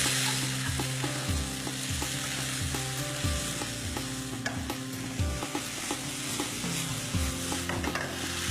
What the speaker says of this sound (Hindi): और अब इसको हमने फ्राई कर लेना है।